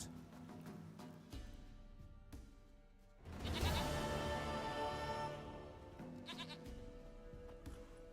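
Goat in The Witcher 3, a single drawn-out bleat rising loudly in the middle over quiet game ambience and music, fading away after a couple of seconds.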